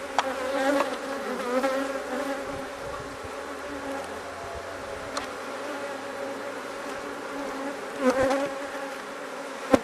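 A dense, steady buzz of many honey bees at an open hive during inspection fills the air at close range, with occasional clicks and knocks.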